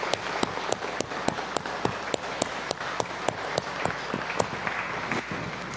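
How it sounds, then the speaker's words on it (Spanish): A congregation claps during a Catholic Mass, with dense, rhythmic handclaps that carry steadily at close range before thinning out, and no voices over them. "Demos un aplauso"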